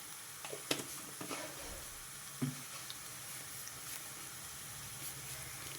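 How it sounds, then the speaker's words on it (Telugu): Fenugreek powder and asafoetida frying in oil give a faint, steady sizzle with a few soft stirring knocks, quiet and close, with no voices. "కొంచెం ఇంగువ వేసి ఇదంతా కొంచెం వేగనివ్వాలి"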